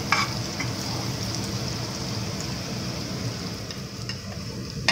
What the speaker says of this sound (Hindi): इसको थोड़ा सा हमने भून लेना है ताकि इसका थोड़ा कच्चापन जो है वो निकल जाए।